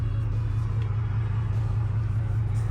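Steady low engine drone and road rumble from a car driving on the highway, continuous and close, with no talk over it.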